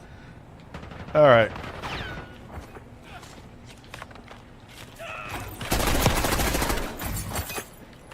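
Bursts of gunfire from a Counter-Strike 2 match, including shotgun blasts: a sharp loud shot early, scattered clicks and footsteps, then a dense sustained volley of fire lasting a couple of seconds, with players talking over it.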